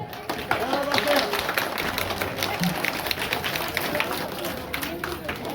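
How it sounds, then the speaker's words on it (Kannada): Audience applause at a school event where a Lions organization hands out supplies, a steady dense patter of clapping from a crowd filling the whole stretch at moderate loudness. "ಒಂದು ಜೋರು ಚಪ್ಪಾಳೆ ಕೊಡಬೇಕು"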